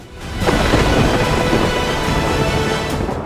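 Heavy monsoon rain pours down in the Malnad hill region of Karnataka in a loud, dense roar, with deep rumbling underneath throughout; no voices are heard.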